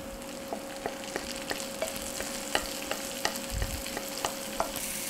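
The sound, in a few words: mushrooms frying with browning garlic and shallot in a pan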